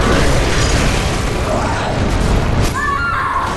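A cannon blast in the video game Bloodborne sounds as a loud, heavy boom that rolls on as a dense rumble for a couple of seconds, then cuts to a quieter tail with a faint tonal chime.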